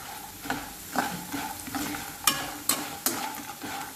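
Vadiyalu, sun-dried lentil dumplings, fry in hot oil with a steady close sizzle, punctuated by repeated stirring scrapes and crackling bursts roughly every half second, with no voices.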